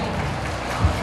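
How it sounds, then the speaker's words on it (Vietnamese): A round of applause fills a parish banquet for the 60th anniversary of Kẻ Sặt parish, a brief, dense wash of many hands clapping together. "Xin một tràng vỗ tay."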